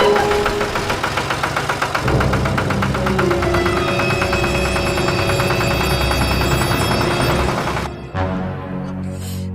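A farm tractor engine runs steadily with a rhythmic, knocking diesel chug, loud and close, holding an even idle-like beat before a brief change near the end.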